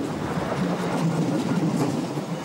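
A DB class 628 diesel regional railcar runs along the track with a steady, loud rumbling roll and faint rhythmic wheel clatter throughout.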